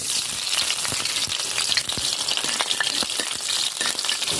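Onion and garlic sauté in hot oil with chicken liver, giving a steady, close sizzle with crackling pops and spatters throughout, loud and continuous with no talking.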